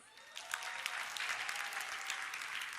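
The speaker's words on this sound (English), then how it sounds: "clap your hands" An audience claps their hands in steady, dense applause, fairly distant and soft, sustained throughout without talk.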